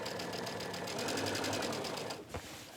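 A sewing machine stitches down the edge of a casing on a tank dress, giving a steady, rapid mechanical whir for over two seconds before stopping with a soft thump.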